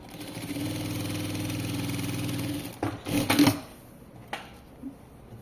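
A sewing machine runs steadily for close to three seconds while stitching a seam across the top of a tailored double-welt pocket, then stops, leaving a few handling clicks and knocks.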